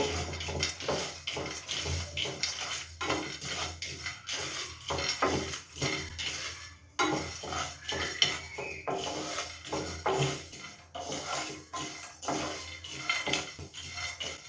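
Cumin and peanuts dry-roasting in a pan, stirred with a spoon, making a steady clatter of spoon scrapes and seeds rattling against the metal, close and continuous throughout.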